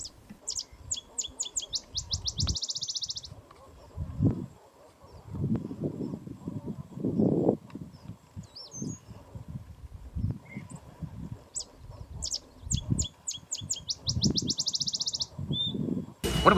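A sparrow sings in mesquite grassland at the base of Madera Canyon, Arizona. It gives two clear bursts of rapid, high trilling song with scattered chirps between them over faint low rustling, and no speech.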